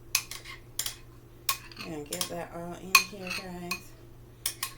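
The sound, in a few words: scraping a bowl with utensils while filling pie crust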